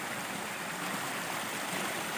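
Water tumbles over a check dam on a river in a steady, rushing wash of sound, close and continuous without pauses.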